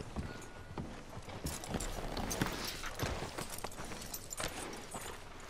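Horse hooves clip-clop steadily at a walking pace in Red Dead Redemption 2, a quiet, continuous patter of in-game footfalls with no talking.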